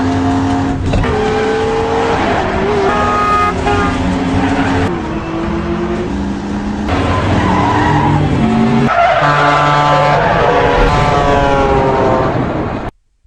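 Tyres screech and engines roar through a car chase in an action film, with dense layered vehicle noise, skids and tonal whines running loud and continuous for most of the stretch before cutting off abruptly at the end.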